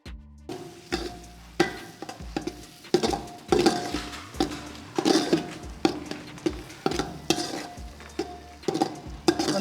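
Moong dal with wheat flour and oil being stirred nonstop in a pan for Asoka halwa: a spoon scrapes and taps the pan in rapid, regular strokes over a soft frying sizzle, close up with no voices.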